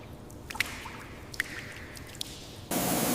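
Water drips and splashes beneath a 1963 Bentley S3 Continental during an underbody rinse, a few sharp separate drops landing on the floor over a steady wet background, then a sudden broad gush of spray near the end.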